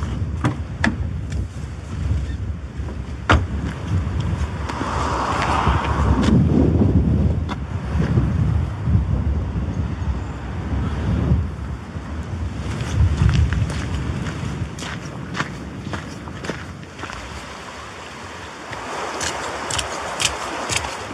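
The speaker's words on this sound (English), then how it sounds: "We've got over 60 miles per hour wind gusts due, and the rain is pretty much non-stop." Heavy storm wind gusts buffet a camping spot in 60+ mph wind and non-stop rain, loud rushing and roaring that swells and eases in waves, with sharp clicks and ticks of rain striking nearby surfaces throughout.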